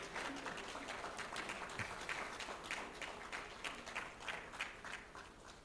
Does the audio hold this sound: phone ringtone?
no